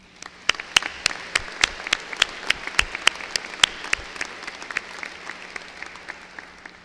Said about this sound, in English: I'd like you all to join me in giving them a well-earned round of applause